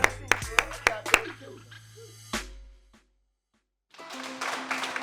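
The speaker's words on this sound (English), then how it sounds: "Let's give him a round of applause, guys." A handful of loud, separate claps ring out close by at an afternoon group session, then a short pause and a burst of softer, denser applause from more people.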